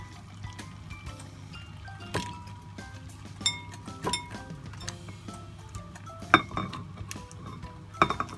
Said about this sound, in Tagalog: And then we're going to transfer it in a bowl.